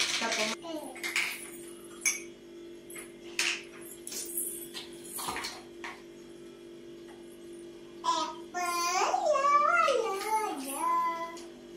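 Metal coffee pan and strainer clink and clatter a few times in a quiet kitchen, and a person talks over the handling near the end.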